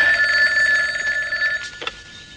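A telephone rings with a bright, steady electronic trill, near and clear, cutting off after about a second and a half as the receiver is picked up.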